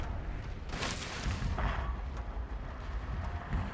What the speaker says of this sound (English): our wooden cannons have started firing, and I think our, yes indeed, our howitzers are gonna start firing